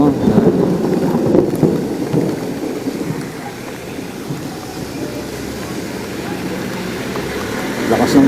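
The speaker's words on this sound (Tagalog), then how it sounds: "Lakas ng ulan, no." Heavy rain coming down hard outdoors, a thick continuous wash of noise with a low rumble beneath, while a voice talks over it near the start.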